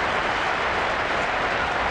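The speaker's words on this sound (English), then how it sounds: "the crowd starting to make some noise here" Baseball stadium crowd, Kansas City at Minnesota: a steady, loud wash of cheering and clapping from a large crowd, continuous and even throughout with no distinct breaks.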